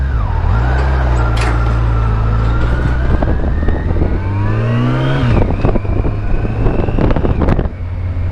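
Sport touring motorcycle pulling hard in third gear, a deep rising engine drone that climbs steadily in pitch, with strong wind roar buffeting the microphone throughout.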